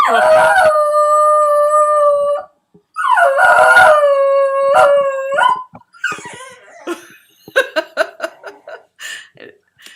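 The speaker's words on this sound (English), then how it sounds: "We're going to have a dog howling." A dog howls loudly in two long, wavering drawn-out howls nearby as a siren passes, followed by shorter yips and broken vocal bursts, with some laughter mixed in.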